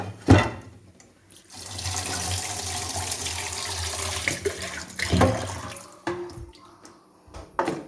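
Tap water runs steadily into a vessel to soak dried meat, a continuous splashing rush with a couple of louder clunks and shifts in flow near the start, middle and end.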